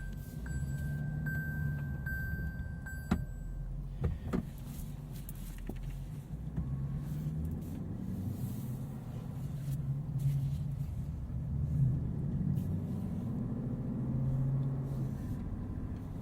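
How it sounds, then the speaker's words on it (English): A 2018 Lexus LC 500 pulling away for a drive, heard from inside the cabin as a low, quiet engine rumble with a few faint clicks early on, steady and without talk. "Let's take it for a drive here."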